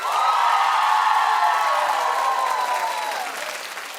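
A studio audience at a daytime talk show claps and cheers loudly in a dense, sustained burst, with a few whoops on top, before slowly fading over four seconds.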